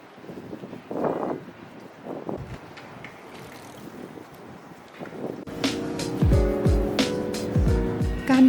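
A vehicle passes outdoors, picked up by a Canon R50 camera as it pans along. Windy road noise builds into a louder, tonal engine roar that swells near the end, with no one talking.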